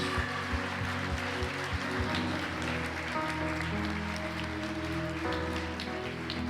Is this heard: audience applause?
yes